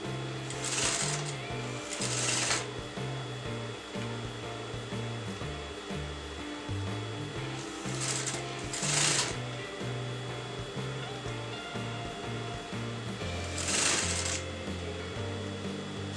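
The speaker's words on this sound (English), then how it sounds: "So now I'm sewing to my canvas side." A sewing machine stitches fabric onto a canvas blouse side in a steady, whirring run of close mechanical clatter, with a few brief louder whooshing bursts breaking in along the way.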